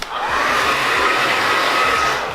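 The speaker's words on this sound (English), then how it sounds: "as soon as you put a hair dryer through this product, it will soften up, it will diffuse like nothing" A hair dryer blows loud and steady from close by with a constant airy whoosh and a thin motor whine. No one speaks over it.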